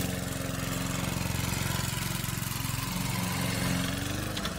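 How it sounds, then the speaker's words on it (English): A lawn mower engine runs steadily in the background, a continuous mid-pitched drone with a low throb that holds at an even level throughout. "all I could hear was a lawnmower"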